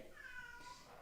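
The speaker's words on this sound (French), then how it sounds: "ça c'est mon chat qui miaule" A domestic cat meows once, a short tonal call rising near the middle of the moment, moderately close over faint room noise.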